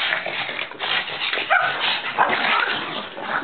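Several excited pugs whimper, yip and bark in a continuous busy jumble close by, the high whines and short barks overlapping for a few seconds without a pause.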